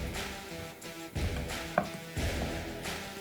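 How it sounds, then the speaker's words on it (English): A knife cuts through a thick ribeye steak to make smaller steaks, giving three or four dull, heavy chops on a board at an even pace, close and clear with no talking. "Get yourself that one big thick steak, then cut up a few smaller ones."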